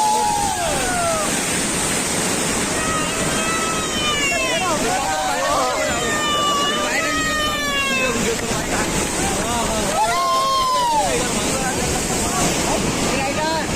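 The Ghatarani waterfall in the monsoon rushes in a loud, steady roar of falling water, with wind buffeting the microphone and voices talking over it.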